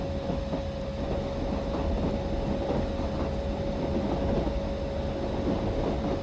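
Karnataka Express train rumbling steadily along the track while switching lines, a continuous loud roar with a sustained tonal hum and faint rhythmic clatter, no voices.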